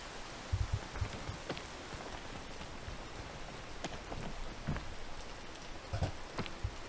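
Rain in the video game PEAK, a steady soft hiss of falling drops with scattered sharper patters and low thuds, moderately quiet and continuous with no voices.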